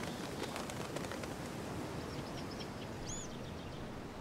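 Birds in a junkyard in the video game Life is Strange: Before the Storm, with cooing and chirping calls over a steady, dense ambient background.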